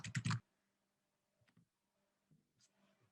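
Typing on a computer keyboard: a quick burst of several close key clicks at the start, then sparse faint taps scattered through near silence.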